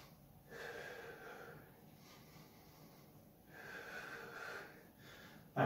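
Hard, rhythmic breathing during a strength and cardio workout, with two long loud exhales a few seconds apart, each followed by softer inhaling, heard close and alone.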